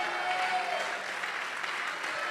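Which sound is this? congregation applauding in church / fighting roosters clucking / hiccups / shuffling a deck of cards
congregation applauding in church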